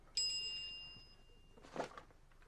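A phone's text message alert chimes once, a bright ringing tone that fades out, followed a moment later by a softer rustle in a quiet room.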